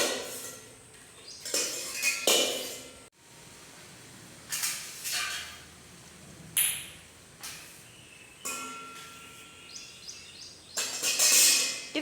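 A knife and pots clink during cooking, with separate metallic chinks and clatters coming in short bursts between quiet gaps.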